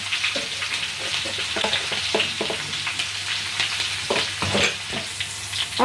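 Cumin, crushed coriander, green chilli, ginger, turmeric and red chilli powder frying in hot oil for samosa filling, a loud continuous sizzle broken by scraping stirs and crackling pops, close up with no voices.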